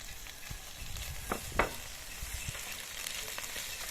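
Potatoes sautéing in a pan after onions have browned, a steady frying hiss broken by a few scraping stirs near the middle, close and fairly quiet with no talking.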